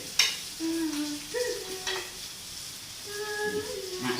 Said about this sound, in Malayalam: ഞാൻ ഇളക്കുന്നു എല്ലാം കൂടി ഇളക്കുന്നു